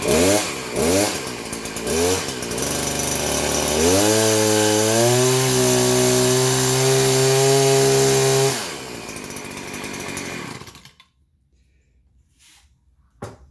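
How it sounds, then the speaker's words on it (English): A Stihl hedge trimmer, repaired after its blades stopped moving, revs in a few short bursts, then runs at a loud, steady high engine whine with blades chattering, then winds down and falls to near silence. "blades start spinning for us. And there they go."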